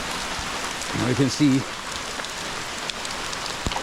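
Heavy tropical rain pours steadily and densely close by on a Thai island, a continuous loud hiss of drops on surfaces, with someone talking briefly over it.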